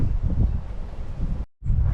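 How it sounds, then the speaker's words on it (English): Steady Great Plains prairie wind rumbles hard against the microphone, low and blustery, briefly cutting out before roaring back. "It is the Great Plains wind, no doubt about that."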